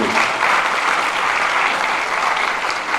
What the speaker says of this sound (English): So we just give my Uncle Tim a round of applause